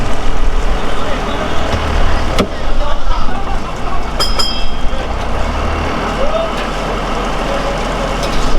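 A fishing trawler's engine runs at the Namkhana fishing harbour in the Sundarbans, a steady low droning rumble heard close by throughout, with people talking over it.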